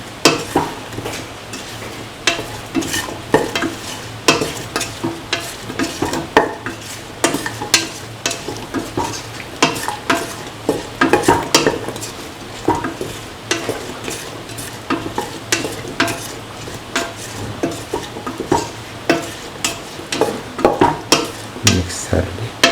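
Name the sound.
stirring bottle gourd rice with scrambled egg in a frying pan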